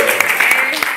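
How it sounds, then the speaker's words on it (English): Brief burst of audience applause at a college comedy show, a dense wash of clapping over the full second with a few sharper individual claps standing out. "clap if you like reggae music"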